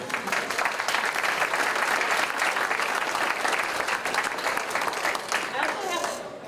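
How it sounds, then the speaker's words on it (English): Sustained, dense applause from the audience at a high school board of education meeting, honoring parents. It is even and continuous for several seconds, and a voice starts up near the end. "So all of the parents, to you, I give you a round of applause"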